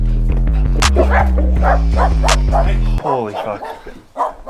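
A dog barking repeatedly in a house in Detroit, rapid sharp barks over a loud steady hum, then someone speaks as the hum cuts out.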